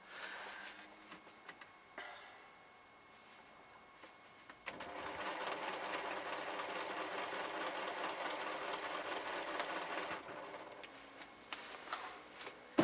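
A small domestic sewing machine with a 7 inch throat quilts a large pin-basted quilt of batik top, polyester batting and cotton back, its steady rapid stitching loud and close for several seconds after quieter intermittent starts.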